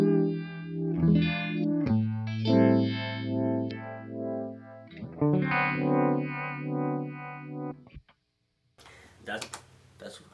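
Electric guitar played through a WR2 Pickle Vibe pedal, sustained chords and notes swirling with a throbbing, wavering vibe modulation, loud and close, then a brief pause and a burst of noisy, scratchy strumming at the end.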